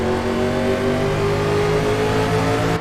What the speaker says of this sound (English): You can hear the engines come up as the roar